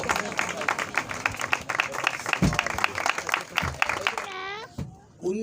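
Applause from an audience at a church ordination service, dense clapping filling most of the clip with voices mixed in, fading out near the end where a brief sweeping tone sounds.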